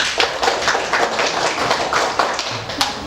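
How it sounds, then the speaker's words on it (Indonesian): Schoolchildren in an Indonesian primary-school Islamic studies class clap their hands together for a classmate, a dense, fairly loud patter of many quick claps running steadily throughout. "Ya, tepuk tangan untuk Jala."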